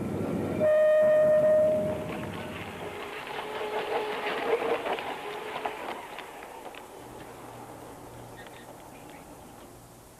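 A Berlin tram opens with a short, loud horn blast, then rolls past with a rumbling, clattering run that gradually fades into the distance.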